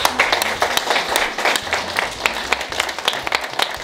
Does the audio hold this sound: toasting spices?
no